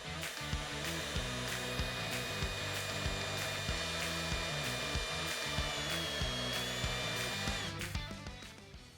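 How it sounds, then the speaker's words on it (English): A power drill with a step bit whines steadily with a rising, grinding bite as it cuts a hole through a switch blank, close and loud, winding down near the end. "Using a step bit, we'll then drill a hole in our switch blank"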